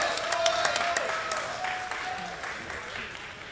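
A crowd at a video game tournament opening match applauds and cheers, with dense clapping and voices filling the space, steady then gradually fading a little.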